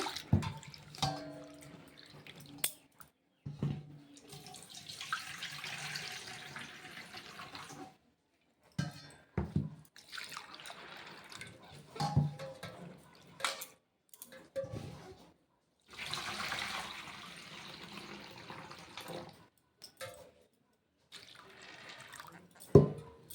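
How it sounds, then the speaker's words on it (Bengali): Lentils for dal are rinsed by hand in water in a home kitchen, giving repeated close bursts of sloshing, swishing and dripping separated by short pauses. "তো ডালটাকে ভালো করে ধুয়ে নেব।"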